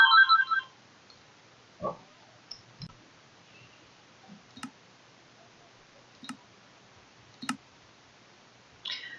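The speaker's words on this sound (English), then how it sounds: "My phone started ringing" A phone ringtone chirps in a short, stacked burst right at the start, then gives way to a quiet room with scattered soft clicks and taps.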